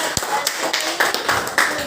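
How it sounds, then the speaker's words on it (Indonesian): A classroom of young children claps for a classmate with a handful of scattered, uneven claps and taps that sound close and fairly light. "Tepuk tangan buat"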